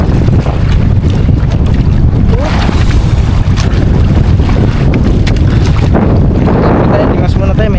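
Sea waves slosh and rush around a small boat out on the water, with heavy wind buffeting the microphone throughout and occasional voices in the background.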